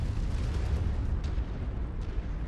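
A MechWarrior 5 video game explosion from a destroyed target: a sustained, dense rumbling blast with heavy low-end roar that holds steady for a couple of seconds, with no voices over it.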